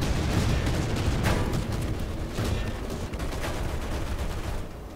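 Sustained burst of machine gun fire in War Thunder, around an American M4A3 Sherman (105) medium tank: dense, steady rattling shots that carry on for the whole stretch with no voices over them.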